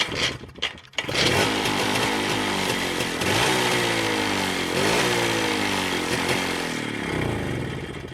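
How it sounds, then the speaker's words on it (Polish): A small two-stroke moped engine, a Motorynka, revs up and down repeatedly, buzzing loudly and close by, with rising and falling pitch and no talking. "Motorynka."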